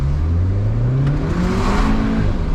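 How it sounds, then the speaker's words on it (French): A 2011 Volkswagen Polo GTI with a 180 hp engine and DSG gearbox accelerates hard with wheelspin, its engine note climbing steadily, loud and close from inside the car, with no voices. "Elle a patiné jusqu'en 3e."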